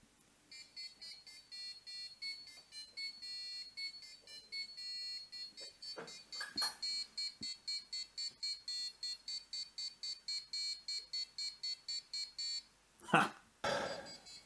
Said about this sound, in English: passive buzzer,